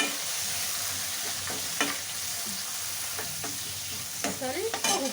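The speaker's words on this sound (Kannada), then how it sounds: "ಟೊಮೆಟೊ ಕೂಡ ಹಾಗೆ ಚೆನ್ನಾಗಿ ಫ್ರೈ ಆಗುತ್ತೆ." Tomato and onion fry in a pan for a radish curry, a steady sizzle running throughout while a spoon stirs in several scraping strokes, clustered more densely toward the end, with no talk.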